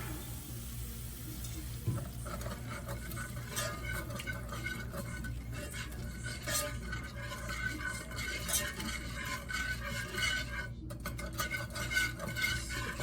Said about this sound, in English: Get this stirred around and get all the little lumps out.